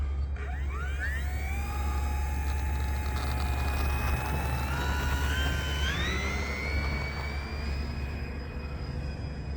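An E-flite Beechcraft D18 1.5m electric RC twin taking off, its motors whining and climbing steadily in pitch as throttle rises, a continuous close buzz with a low background hum.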